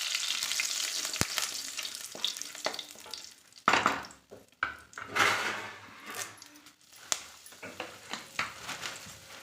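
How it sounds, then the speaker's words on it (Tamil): Garlic, curry leaves, dried red chillies and fenugreek seeds fry in hot oil in a home kitchen, sizzling steadily up close, with a few stirring scrapes and clatters breaking through, and no talk. "பூண்டு நல்லா ரோஸ்ட் ஆகட்டும் எண்ணெயிலேயே"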